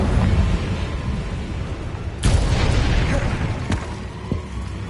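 A Confringo fire spell detonates in Hogwarts Legacy, one sharp explosive boom midway, followed by rumbling debris and a smaller pop over continuous rain-like ambience.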